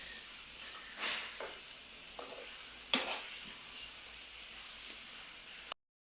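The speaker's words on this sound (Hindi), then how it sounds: "पहले ये जो वेजिटेबल और टमाटो है इसे वो पकाना है ताकि फ्राई। फ्राई करना है।" Vegetables and tomatoes for a jalfrezi fry quietly in a pan with a soft, hissing sizzle. A few stirring knocks and scrapes stand out, one sharper than the rest, before the sound cuts off abruptly.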